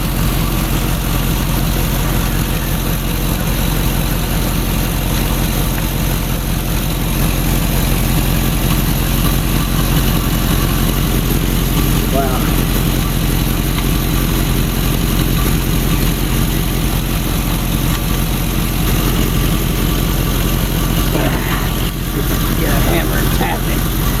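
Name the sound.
Land Rover Discovery II engine running, warmed up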